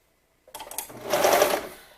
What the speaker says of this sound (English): I usually like to turn my knife off unless I'm cutting off these little serger tails, because I do not want to trim anything off.